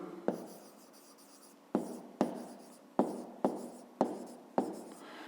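Chalk or pen strokes on a board during a fifth-grade math lesson, heard as a string of about seven sharp, separate taps and scrapes at uneven intervals, close and fairly loud, with no talking.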